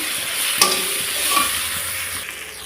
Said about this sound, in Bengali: এখন এটাকে ভালোভাবে মশলাটাকে কষিয়ে নেবো